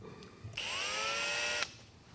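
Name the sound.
Matco HyperStep step drill bit drilling a truck ball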